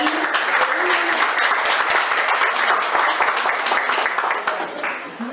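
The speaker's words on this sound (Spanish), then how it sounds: "Un aplauso para la licenciada Lavini." A crowd applauds loudly and steadily, with scattered sharp claps up close and a voice talking briefly over it before the clapping begins to fade toward the end.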